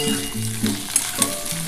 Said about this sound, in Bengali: বন্ধুরা দেখো, আলুটা কিন্তু একটু লাল লাল করে ভাজা হয়ে যাচ্ছে